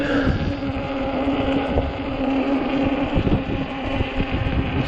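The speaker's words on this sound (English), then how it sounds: "You see the wind just blowing." Cold wind roars steadily into the microphone during a ride on an Ecotric 20-inch fat-tire e-bike, a continuous buffeting rush with gusty low thumps and no voices.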